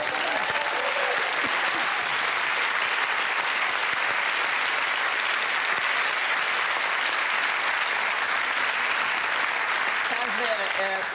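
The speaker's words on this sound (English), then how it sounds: "That's the longest round of applause we've ever had for anything." Long, dense round of applause from a TV quiz show studio audience, loud and sustained throughout with steady clapping and faint voices mixed in.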